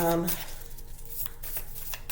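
Tarot cards being shuffled by hand during a reading, a quick riffling flutter of card edges, fairly close, with talk around it.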